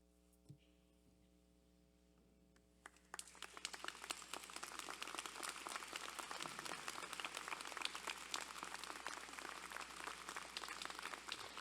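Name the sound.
audience applause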